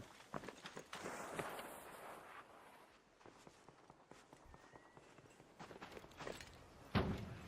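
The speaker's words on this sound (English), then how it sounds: "Swear I heard some footsteps." Footsteps in the video game Arc Raiders, a steady run of soft thudding steps under a dense, noisy game soundscape, with a louder thump near the end.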